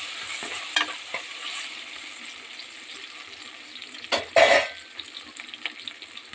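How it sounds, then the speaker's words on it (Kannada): Homemade ginger garlic paste frying in a pan for a simple chicken gravy, with a soft continuous sizzle broken by a few sharp stirring scrapes and clatters, louder around the middle, with no talking. "ನಾನು ಮನೆಯಲ್ಲೇ ರೆಡಿ ಮಾಡಿದ ಶುಂಠಿ ಬೆಳ್ಳುಳ್ಳಿ ಪೇಸ್ಟ್ ಹಾಕಿ ಚೆನ್ನಾಗಿ ಫ್ರೈ ಮಾಡ್ತಾಯಿದ್ದೀನಿ"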